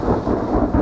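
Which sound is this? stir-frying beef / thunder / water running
thunder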